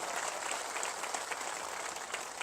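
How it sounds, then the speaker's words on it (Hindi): Crowd clapping at a political rally in Bihar to welcome a guest, a brief steady patter of many hands at moderate distance with no voices over it. "जोरदार ताली बजा करके इनका स्वागत करिए।"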